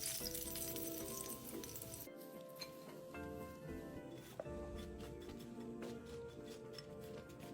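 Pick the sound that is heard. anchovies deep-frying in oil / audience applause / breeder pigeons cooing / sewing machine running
anchovies deep-frying in oil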